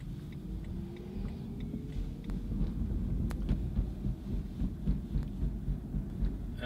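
A BMW i3 electric rear-wheel-drive car moves through city streets, giving a steady low road rumble and cabin hum with faint thumps and a soft rising whine, constant and fairly quiet throughout.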